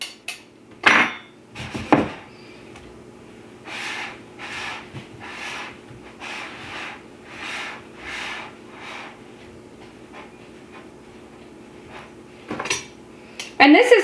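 A pastry blender cuts butter into a bowl of gluten-free biscuit flour, producing a run of rhythmic scraping and clinking strokes, with a few sharper metallic knocks at the start and end.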